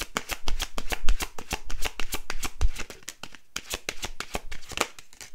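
Tarot cards shuffled by hand in a steady riffling rhythm of rapid papery flicks, close and fairly loud with only a brief lull partway through.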